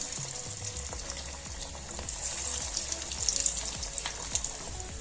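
Potato pieces for Aloo 65 frying in hot oil over a medium flame, a steady crackling sizzle with a faint watery hiss and no voices.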